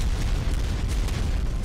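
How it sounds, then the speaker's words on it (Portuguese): A dense, rumbling video game cannon explosion fills the whole stretch, a continuous roaring blast with booming low end and no pauses. "Olha a explosão"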